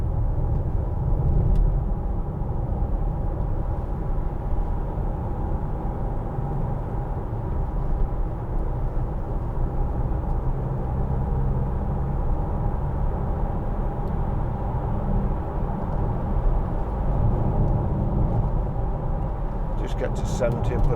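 A 2012 Land Rover Freelander 2 TD4 HSE 4x4 cruises on a rough motorway at 70 in sixth gear around 2,000 revs, giving a steady, low, even road and engine rumble throughout, with someone talking over it.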